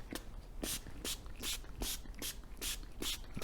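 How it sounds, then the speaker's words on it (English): K&N air filter cleaner is sprayed onto an air filter from a 2010 Buick LaCrosse in a series of about eight short, hissing bursts at an even rhythm, close and fairly quiet, with no talking. "I'm just make sure I spray it really, really good all over it."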